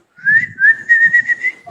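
A person whistles a short run of clear, fairly loud notes, a few sliding and wavering pitches heard up close with nothing else over them.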